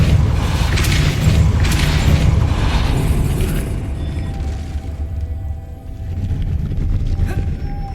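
A Depulso spell cast in the Hogwarts Legacy video game, a loud, sustained whooshing blast of force with a booming, rumbling body that fades into a lower hum and faint mechanical clinks.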